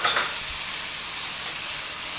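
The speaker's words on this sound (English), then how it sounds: "After a couple of minutes, adding the chopped tomatoes." Chopped tomatoes hit a hot pan with a loud hissing sizzle that settles into a steady, close frying hiss, with no talk over it.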